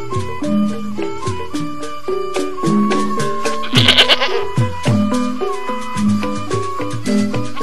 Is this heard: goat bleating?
yes